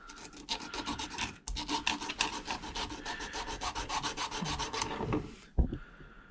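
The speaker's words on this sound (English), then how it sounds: "I just sand this little lump that's on the corner." A lump on the corner of a Peugeot 205 GTi Mi16 body panel is rubbed down by hand, with close, rapid rhythmic rasping strokes that stop abruptly near the end, followed by a single knock.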